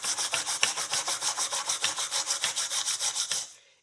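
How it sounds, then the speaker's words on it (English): A pad of steel wool is scrubbed back and forth over a rusty horseshoe in steady, rapid rasping strokes of about six per second. The scrubbing is loud and close and then stops abruptly. "So we'll go ahead and use steel wool to clean these things off."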